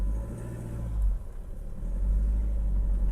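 Car engine rumbling steadily at low speed during a driving lesson, briefly easing off as the clutch and brake are applied, then resuming its low drone.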